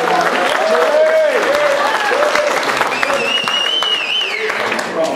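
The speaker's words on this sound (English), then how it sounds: "One more big round of applause for Emily." Wedding guests applaud for Emily in a steady, dense round of clapping that lasts throughout, with crowd murmur and tonal whistles or cheers rising above it.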